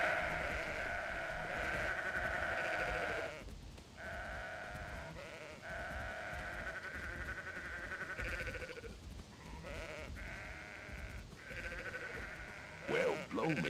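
Game-like sheep bleats from the video game Sudeki repeat over a steady layered background hum, with short pauses between the calls; the sound is fairly quiet overall.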